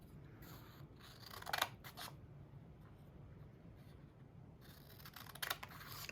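Scissors snip a wedge out of craft material for a small gnome, quiet close-up cuts in two short clusters separated by a soft lull.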